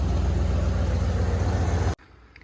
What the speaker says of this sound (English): you can hear she's loping on the cam